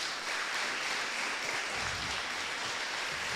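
Church congregation applauding at Mass, a steady broadband patter of clapping at moderate level throughout, with no speech over it.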